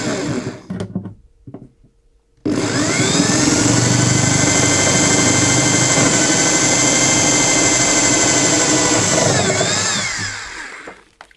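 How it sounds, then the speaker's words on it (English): A power drill bores a 1/2 inch endpin hole in an acoustic guitar body, starting abruptly after a few quiet sounds and holding a loud, steady whine for about seven seconds before winding down. "We need to drill the Endpin hole bigger for the preamp."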